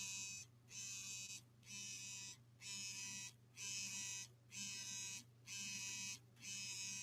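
A phone buzzes in repeated pulses, roughly one second on and a short gap off, steady and fairly close, with a low hum underneath.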